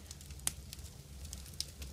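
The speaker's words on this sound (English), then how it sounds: "And then we'll go to the crackling fireplace." A fireplace fire crackles quietly, with a few sharp pops standing out over a low, steady rumble.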